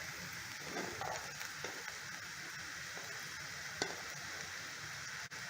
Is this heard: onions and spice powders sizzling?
yes